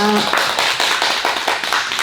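An audience at a book concert talk on independent publishing claps, with sharp individual handclaps audible in a fairly close, moderately loud burst that fills the moment.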